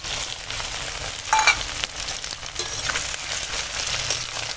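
Ginger paste and green chillies fry in a tempering of dried red chillies and whole cumin, with a dense, fairly loud sizzle and a few stirring scrapes, nobody speaking.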